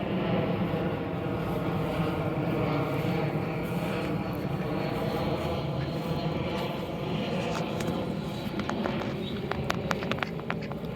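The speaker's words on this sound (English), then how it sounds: "Got a plane coming right overhead," A propeller airplane passing overhead above a garden, a steady broad engine drone filling the whole stretch, holding loud and even with little fade, with faint intermittent clicks near the end.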